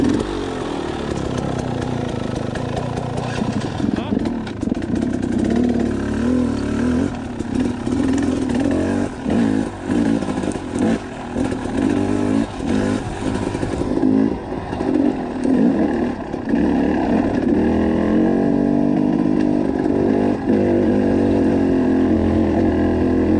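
A motorcycle on a Colorado ride downshifts and revs, the engine rising and falling in repeated bursts with gear changes, loud and close amid road and wind noise.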